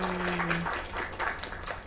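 Audience applause in the video game Lake, a soft, moderately dense patter of clapping with a few louder claps, faint and steady beside a brief low tone at the start.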